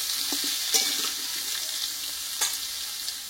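Potato and papaya pieces sizzle steadily in a hot pan for a Bengali vegetarian papaya dish, with a few soft scraping clicks of stirring over the constant crackle.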